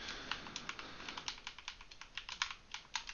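Keystrokes on a computer keyboard while entering input in a C# console program, a steady run of crisp, close clicks at an irregular typing rhythm, heard alone without any voices.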